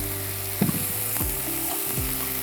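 Spices frying in a pan for a fennel-paste chicken curry, a steady close sizzle with a few soft stirring knocks and scrapes, no voices.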